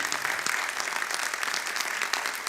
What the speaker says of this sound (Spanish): Un gran aplauso para ti